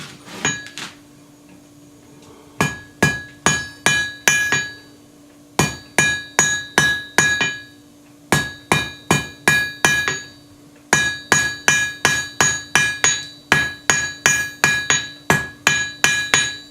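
Sharp metallic hammer blows on an anvil ring out in quick bursts of four to six strikes while forging a nail, pausing briefly between groups, close and loud.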